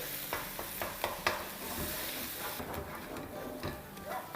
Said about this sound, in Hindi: इसको मिलाएंगे अच्छे से।